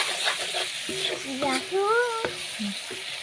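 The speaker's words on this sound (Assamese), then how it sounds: "এতিয়া ভালদৰে ভাজি ল'ম এইখিনি ভালকৈ ভাজি ল'ম" Food fries in a pan with a steady sizzle, punctuated by a few sharp clanks and a brief squeaky tonal sound.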